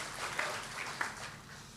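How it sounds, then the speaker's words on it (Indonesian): Light, brief clapping from a seminar audience for a speaker, soft and fairly distant, with a couple of sharper claps standing out. "Tepuk tangan buat Pak Sugeng dong."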